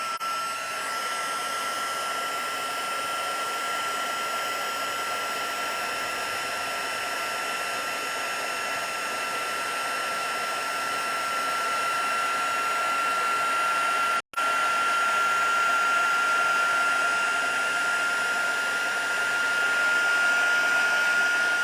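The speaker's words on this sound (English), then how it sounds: "Okay, I'm gonna use the heat tool." A heat tool for paper-craft embossing blows continuously, a steady fan whir with a high whine, briefly cut off once midway and then resumed.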